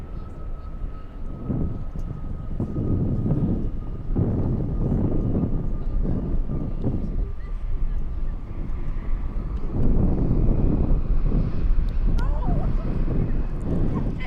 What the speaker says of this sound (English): 737 coming in.